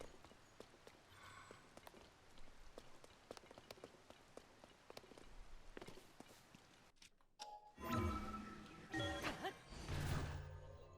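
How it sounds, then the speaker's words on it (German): Rain falls in The Legend of Zelda: Tears of the Kingdom, a soft patter of drops with regular clip-clop steps, then louder, denser splashing and rustling bursts toward the end. "Oh, scheiß Regen."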